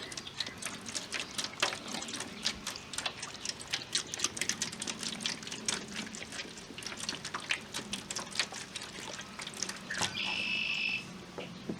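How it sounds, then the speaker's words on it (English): Beef broth poured into a foil pan holding a brisket, a steady liquid splash and trickle running throughout, with a brief clearer pour near the end. "I'm also going to put some beef broth in the bottom of it."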